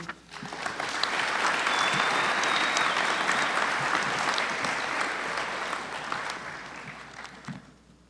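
An audience at a 2023 online graduation ceremony in Yakima breaks into sustained applause welcoming Dr. Green to the podium, loud and steady, then slowly tapering off.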